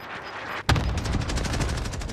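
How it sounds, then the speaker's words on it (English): Airstrike in Call of Duty on Rebirth Island: a sudden loud blast followed by a dense, rapid rattle of repeated explosions or gunfire lasting a couple of seconds. "But I'm putting an airstrike on there"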